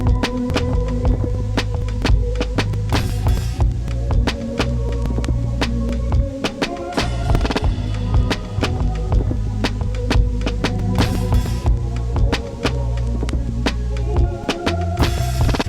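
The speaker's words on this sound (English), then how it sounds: "Once I had that, you bring in the bass and the guitar" A beat with drums, bass and guitar plays steadily, deep bass and kick pulsing under rhythmic guitar and percussive hits, loud and continuous throughout without any talking.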